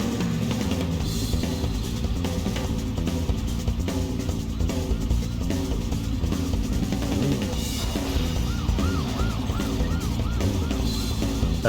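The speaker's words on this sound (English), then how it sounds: "it almost sounds like the sirens are part of the song" Police sirens wail in the video game Just Cause, a rising and falling electronic tone cycling steadily over loud in-game music and engine noise, persisting throughout.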